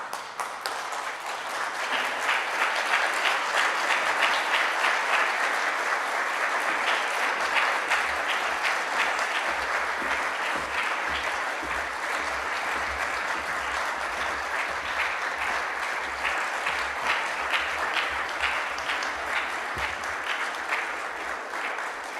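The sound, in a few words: graduation ceremony audience applause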